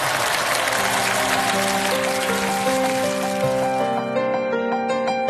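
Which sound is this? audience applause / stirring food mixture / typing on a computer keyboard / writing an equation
audience applause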